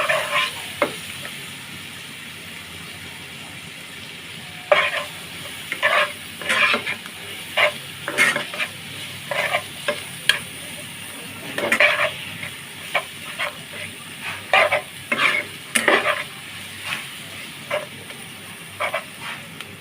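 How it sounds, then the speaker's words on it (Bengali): Onion and garlic with turmeric and coriander powder stir-fried in a pan for an eggplant mash, a soft background sizzle broken by repeated sharp scraping strokes of a spatula, close and intermittent. "ধনিয়ার গুঁড়া দিয়ে ভালোভাবে নেড়ে চেড়ে মিশিয়ে নেব"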